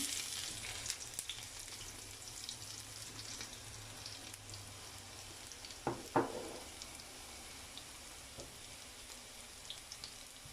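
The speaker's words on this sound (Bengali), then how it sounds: "এখন দিয়ে দিব কেটে রাখা রসুনগুলো।" Chopped garlic frying in a pan, a quiet, steady sizzle that runs throughout, with a couple of brief clanks partway through.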